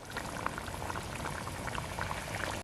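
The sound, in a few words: fish curry (meen kulambu) boiling in a pot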